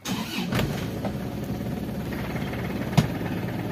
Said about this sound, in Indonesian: Nah, dan transmisinya ada suara, tuh ya, dengar?